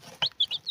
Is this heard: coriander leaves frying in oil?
no